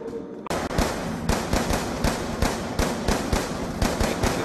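Rapid automatic gunfire from Call of Duty Black Ops 2 Zombies, a dense stream of close, loud shots starting after a brief pause and continuing steadily throughout, with no talk over it.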